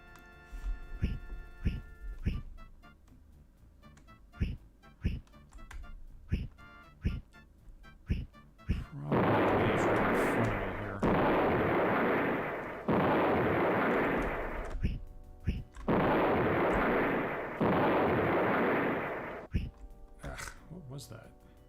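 Gunfire and cannon blasts from the video game D&D Fantasy Empires start as sharp scattered shots and then build into loud, sustained bursts of barrage that come and go, with talking over parts of it.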